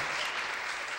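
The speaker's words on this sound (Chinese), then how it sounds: "掌声鼓励鼓励" A studio audience at a television variety show gives a brief, moderately quiet patter of applause that fades slightly toward the end, with no talking over it.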